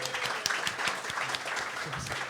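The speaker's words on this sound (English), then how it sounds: "guys, give yourselves a round of applause for coming out." Audience applause at a comedy show, a dense burst of clapping with scattered cheers that keeps up steadily at moderate loudness throughout, with faint voices mixed into the crowd.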